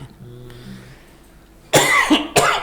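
Two loud, harsh coughs close to the microphone, one long and one short, following a quiet stretch with faint murmuring.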